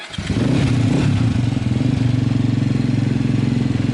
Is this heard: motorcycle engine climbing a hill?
yes